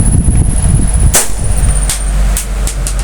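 A single muffled, dull pistol shot fired into a pillow thumps once, close and loud, amid a steady high-pitched whine and background noise.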